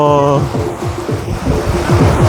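Loud, continuous rushing water of Chaparai waterfall in Araku Valley roaring without pause, with a brief tonal sound at the start and faint voices beneath.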